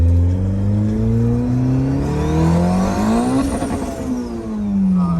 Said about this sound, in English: Gotta do a highway pull at like 60.